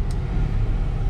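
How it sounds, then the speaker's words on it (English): A Ford E150 van with a rough-running 4.2 L engine idles while being backed out: a steady, loud low rumble with no distinct events, close by. "I'm gonna go ahead and back this out"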